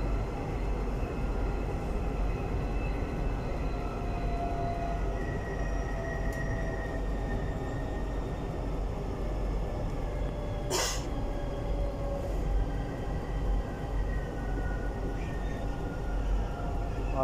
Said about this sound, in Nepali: मेट्रो यहाँदेखि चाहिँ स्टार्ट भएर हिँडिसकेको अवस्था छ।